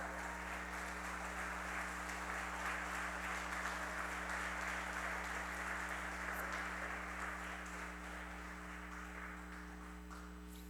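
A church congregation applauds steadily and loudly as a dense, continuous wash of clapping that fills the room, holding for about ten seconds and tapering only slightly at the end, with a steady low hum beneath it.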